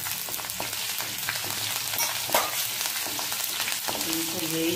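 Green chillies and cumin seeds crackle and fry steadily in hot oil in a kadai, a close, continuous sizzle with small pops and a brief spatter near the middle, no voices.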